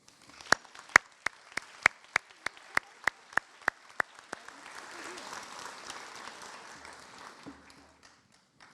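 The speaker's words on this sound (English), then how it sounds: "applause" An audience at a 2021 school graduation celebration applauds the graduating class. About a dozen distinct, evenly spaced claps sound up close, then fade into a softer spread of crowd clapping before it dies away.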